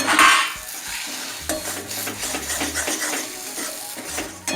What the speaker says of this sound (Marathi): झाकण काढून जरा हालून घेऊया आपण हे